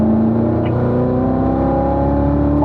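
A car accelerating on the Spring Mountain race track, a loud, close, steady engine drone with a slowly rising pitch, heard alone.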